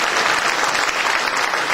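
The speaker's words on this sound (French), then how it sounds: "On les applaudit bien fort tous les cinq." Dense, steady applause from an audience at a French public meeting or panel, loud and continuous throughout with no talk over it.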